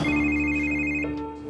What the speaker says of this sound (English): I got Incub on the phone